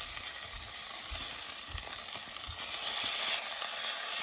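Lentils hitting hot turmeric-flavored oil for a lentil and tomato daal, giving a steady, fairly quiet sizzle and hiss with a few soft thuds and stirring knocks, no talking.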